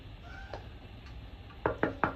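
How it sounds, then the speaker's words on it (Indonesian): Knuckles knocking on a table in a classroom, first a soft tap, then three sharp, evenly spaced raps close by, with no one talking. "ibu ketuk meja ini"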